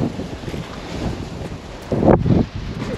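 Strong wind buffets the microphone at a camper park in the village of Cañaveral, Spain, a loud continuous low rumble with a harder gust swelling near the end; no talking.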